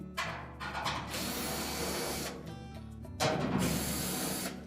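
A power screwdriver whirs in long bursts nearby, removing 5/16 hex-head screws from a Whirlpool dryer's back panel, with mechanical rattling and ratcheting between runs.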